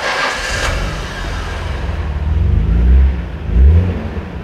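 An R32 Nissan GT-R engine cranks and catches, then revs up loudly twice in deep throaty bursts, close by with no talking.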